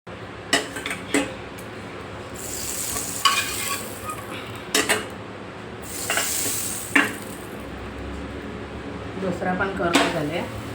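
Potato-stuffed paratha cooking on a pan at home, soft sizzling under scattered scrapes and clinks of a spatula against the pan, while someone talks intermittently.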